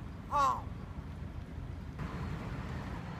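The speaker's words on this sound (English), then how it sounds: "Even the crows sound different." A single harsh crow caw rings out briefly near the start in Kyoto, Japan, then only steady wind and low rumbling background noise remain.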